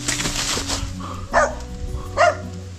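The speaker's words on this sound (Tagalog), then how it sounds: "Teka, may aso eh." A dog barks outdoors, with two sharp barks standing out over a busy background of noise.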